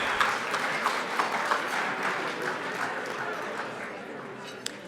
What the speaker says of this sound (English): So if we can give a round of applause to the Get Healthy Utah team for our lunch,